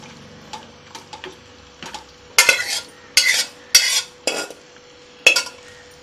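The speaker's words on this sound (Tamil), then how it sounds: "இதை அப்படியே எடுத்து இந்த மசாலாவில் சேர்த்துக்கோங்க" Cooked mutton is stirred into masala in a pan, with a few light taps and then a series of loud, close scraping clatters of a spoon against the pan, and no voices.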